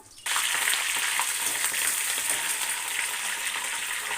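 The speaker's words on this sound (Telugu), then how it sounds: "కలాయి పెట్టి ఆయిల్ వేసాను కొంచెం ఇందులో పచ్చిమిరపకాయలు కరివేపాకు వేస్తాను" Green chillies and curry leaves hit hot oil in a kadai and sizzle loudly at once, the frying settling into a steady, close crackle throughout.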